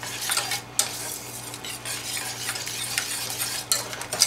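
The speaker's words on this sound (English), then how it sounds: "And then you just whisk until the cheese melts in really nicely." Cheddar and cream cheese being whisked into a nacho cheese sauce, a steady scraping stir with soft bubbling, one clear clink near the start and another near the end, close and fairly quiet with no talking.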